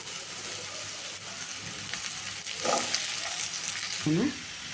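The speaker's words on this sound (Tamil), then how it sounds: "இப்போ அதே எண்ணெய் சட்டியில் பீக்கங்காய் வச்சுக்கலாம்" Ridge gourd fries in hot oil in a pan for a thuvaiyal, a continuous close sizzle broken by a few stirring scrapes and clinks.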